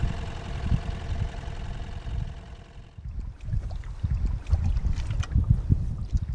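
A small boat's outboard motor runs at a steady hum on coastal water in Maine, then cuts out about halfway, leaving close splashing, water slaps and knocking against the hull.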